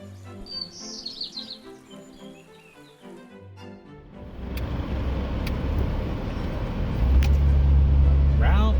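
Car cruising along Route 50 in West Virginia, its road rumble and tire noise rising after a quieter opening of bird chirps and faint speech, then holding a steady, close drone to the end.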